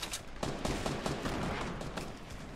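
Gunfire in a Fortnite tournament match cracks out as a run of rapid shots, close and loud, with a few sharper bursts scattered across the stretch and no speech.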